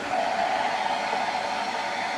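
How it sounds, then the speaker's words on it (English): Compressed air rushes steadily through house plumbing lines during a winterization blowout, producing a loud, continuous hiss with no break from start to finish. "which means we're just blowing air out."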